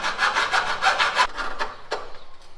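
Hand sawing through material, with rapid rhythmic back-and-forth rasping strokes, close and loud, slowing to a few separate strokes before stopping.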